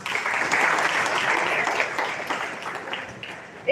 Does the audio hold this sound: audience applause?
yes